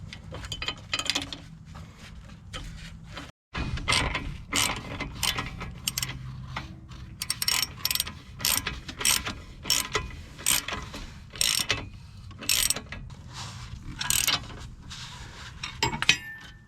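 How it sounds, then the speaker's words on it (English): A wrench ratchets a bracket bolt tight on the strut of a 2007 Toyota Sienna, with dense rapid clicking in bursts over a low background hum, close and fairly loud. "we're tightening down the bracket which hold this hose and cable"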